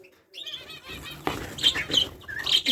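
Green finches chirp in an aviary alongside canaries, giving a flurry of short, bright, high calls close by, with busy rustling and what sounds like wing flutters running under them.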